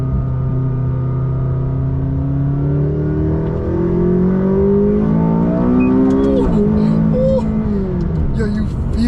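A McLaren 570S sports car accelerates hard with a steady engine tone rising in pitch through the gears, loud and close from inside the cabin, with a brief shift dip near the end.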